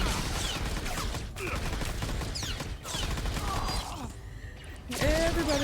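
An explosion from a bomb in Star Wars: The Old Republic, set in a dense, busy game mix of repeated blasts, gunfire-like bursts and mechanical clatter, loud throughout, with a brief lull before a final heavy burst.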